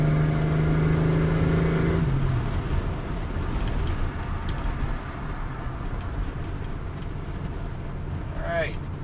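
A car engine fitted with a Sniper 2300 and a venturi restrictor plate runs at wide open throttle, a loud, continuous, rough drone with wind and road rumble that holds steady after an early tone shift, with a voice talking over it briefly.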